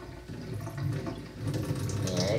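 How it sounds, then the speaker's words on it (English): Vinegar poured from a jar into a sink during an egg experiment, a steady liquid splash and trickle that swells midway and runs continuously to the end, moderately close. "carefully pour my vinegar out into the sink and catch my egg carefully"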